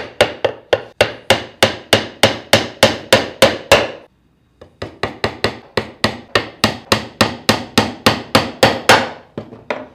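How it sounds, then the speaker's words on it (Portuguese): A hammer drives nails into a wooden guide rail for routing a groove in a cutting board, landing as a rapid, steady run of loud, close strikes that pauses briefly midway and then resumes at the same pace. "Nós vamos pregar a madeira aqui, o nosso limite, nossa régua guia."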